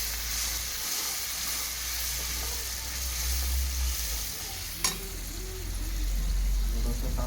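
Homemade masala sizzles in a pan of prawn gravy while a spoon stirs it, a steady frying hiss with a sharp clink of utensil against the pan midway.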